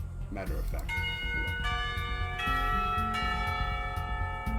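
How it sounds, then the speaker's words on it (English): A school bell rings in the Katawa Shoujo video game, a sustained chiming tone that starts about a second in and holds steadily over soft background sounds. "The school bell! Yay!"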